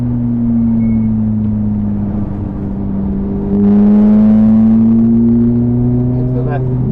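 A Ferrari F430 slows on a wet Silverstone track, its engine drone falling under braking before a downshift blip raises the pitch, heard from inside the car at a steady loud level.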